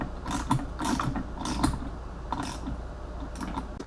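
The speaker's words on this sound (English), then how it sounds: "So let me tighten this one up." Bolts being tightened with a ratcheting tool on the rally tower of a 2019 KTM 690 Enduro, a run of quick clicking ratchet strokes in short bursts, close and fairly loud, with no talking.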